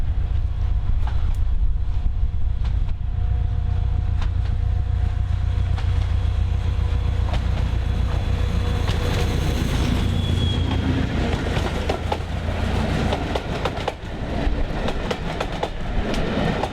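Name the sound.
Class 73 diesel locomotive hauling a northbound shuttle train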